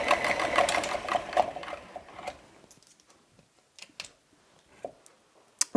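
An electric stand mixer whirs briskly through pumpkin pie filling for about two seconds, then switches off, followed by a few faint clicks and taps in a quiet kitchen.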